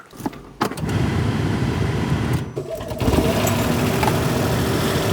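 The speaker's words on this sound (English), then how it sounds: "Start the car up." Smart ForTwo 451 small petrol engine cranking and catching, then settling into a steady, fairly loud idle with a brief dip and a revving rise near the end; no talking.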